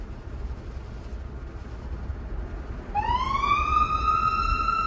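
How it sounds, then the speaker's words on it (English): After a few seconds of low engine rumble from a Tesla, a police siren starts up nearby and rises into a loud, steady wail. "Sirens on."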